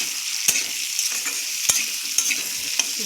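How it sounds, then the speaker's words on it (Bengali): Potato pieces frying with salt and turmeric in a pan, a constant hiss of sizzling oil broken by a few sharp clacks of the spatula as they are stirred, no talking. "তো তাই আলুটাকে একটু ভালো করে ভেজে নিয়ে"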